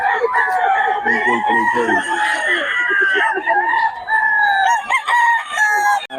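Stag roosters crow loudly and close by, several drawn-out calls overlapping with some clucking. A voice briefly speaks among them.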